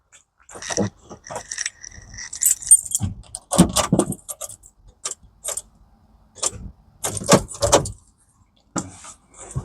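A recovery truck with a flat battery is cranked repeatedly without catching, giving clicking and whirring starter bursts with mechanical clunks and rattles between them, close by and with no talking.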